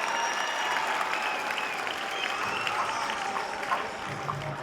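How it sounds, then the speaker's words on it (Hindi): Loud, sustained applause fills a hall as a student is welcomed onto the stage at a JEE Main 2025 result celebration, dense clapping at an even level throughout, with faint crowd murmur beneath. "एक बार जोरदार तालियों के साथ मंच पर आमंत्रित करें।"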